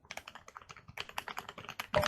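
Fingers type quickly on a new mechanical keyboard with milky yellow Prelude switches, a close, fast run of crisp clacking keystrokes that ends in a louder burst.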